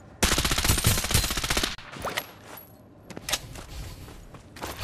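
Rapid bursts of automatic gunfire in a first-person shooter game, a loud sustained volley followed by scattered single shots and short bursts, close and sharp.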